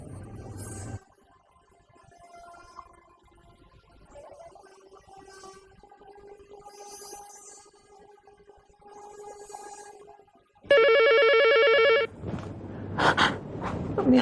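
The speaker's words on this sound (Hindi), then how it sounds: "चलो उठाओ, उठाओ फोन।" A telephone rings indoors in a domestic drama scene, a loud electronic trill bursting in after quiet, breathy moments, cutting off abruptly and followed by gasping sounds.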